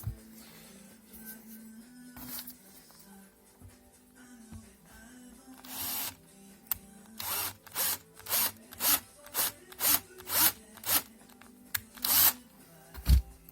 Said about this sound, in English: So I've drilled a hole as big as I want to drill